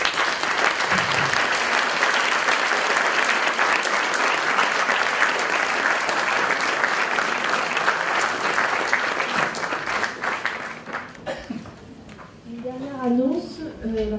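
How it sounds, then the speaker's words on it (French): A lecture hall audience applauds a professor after her talk on dark matter, a dense, loud, sustained wash of clapping that fades out near the end as a voice starts speaking. "peut-être vous inviter à applaudir le professeur Combe pour"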